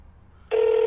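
Outgoing phone call ringback tone: after half a second of near silence, a steady electronic ring starts abruptly and holds at an even, fairly loud level until the end.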